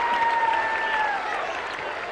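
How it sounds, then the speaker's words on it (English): A crowd at a 1977 India versus Australia Test cricket match applauds a boundary drive, a steady wash of clapping from many hands that fades slightly as it goes on. "it's the first chance the crowd have had to applaud"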